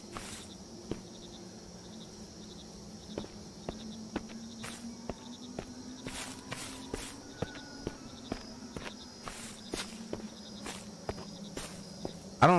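Footsteps in a scary video game, a steady series of soft distinct steps over a constant backdrop of chirping insects and low ambient hum, fairly quiet.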